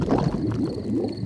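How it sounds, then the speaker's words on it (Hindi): A cartoon father pig's stomach rumbles in a low, gurgling, bubbly churn that runs throughout, moderately loud with no speech over it. "ये डैडी के पेट की आवाज है।"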